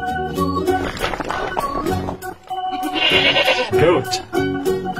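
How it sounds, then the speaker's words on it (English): A goat bleats several times in a children's learning game, wavering calls that are loud and close, with cartoonish game sounds mixed in. "Goat."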